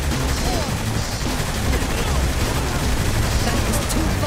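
Dense, continuous gunfire from the video game Saints Row 3 fills the clip, a loud unbroken barrage of shots and blasts with no clear gaps.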